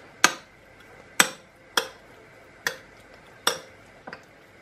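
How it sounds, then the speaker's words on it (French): Homemade cat food with rice being mixed in a bowl gives five or six sharp, dry knocks about a second apart, close and fairly quiet, with near silence between them. "il faut mélanger le tout"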